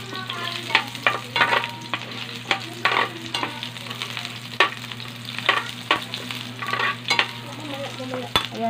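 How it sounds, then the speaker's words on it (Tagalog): Onions frying in oil in a pan: a steady, close sizzle throughout, broken by frequent scraping stir strokes, with a low constant hum underneath and no talk. "Lalagyan natin ulit ang mantika. Tsaka ilalagay natin yung sibuyas."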